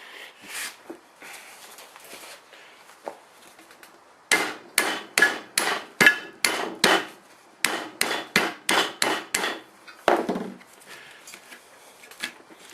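Sharp metallic hammer blows on a mild steel drift driving out a Nissan Patrol radius bush, a few scattered strikes first, then a steady run of about fifteen loud, evenly paced close-up hits.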